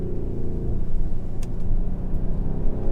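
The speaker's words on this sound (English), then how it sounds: "the downshifts in these cars are just sound really awesome" Mercedes GLC63 AMG SUV engine downshifting, a deep continuous rumble that swells slightly as revs rise and fall, heard from inside the vehicle with no talking.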